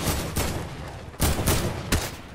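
Rapid bursts of gunfire in the Fortnite video game come in quick, loud volleys, with short pauses between the dense rattling clusters.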